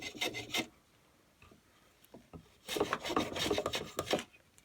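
Sandpaper rubs along the edges of a small wooden toy racing car in short scratchy bursts: a brief flurry of strokes, a pause with a few light knocks, then a longer run of rapid back-and-forth rasping, close and alone.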